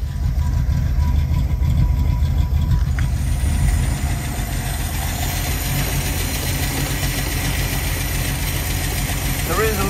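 A barn-found Ford XY Falcon Ute idling after sitting unused for years, a steady low engine rumble close by that runs through the whole stretch, with a faint whine near the end.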